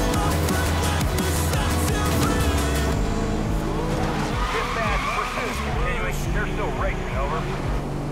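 A McLaren MP4-12C in Need for Speed Most Wanted (2012) revs hard with a loud, constant engine roar, then its tires squeal and skid in wavering screeches, close and dense throughout.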